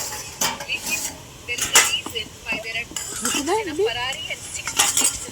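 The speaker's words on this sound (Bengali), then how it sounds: "আমরা ঢাকাটা খুলে দিচ্ছি।" A lid is taken off a cooking pot with metallic clanks and clinks of cookware and a utensil, while a voice speaks briefly in the middle.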